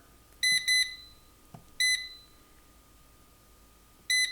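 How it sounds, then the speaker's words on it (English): An air fryer beeps as its temperature and time are set, giving short bright electronic tones in quick pairs, then a single beep and a later beep, with quiet pauses between. "The directions say to set the air fryer on 330"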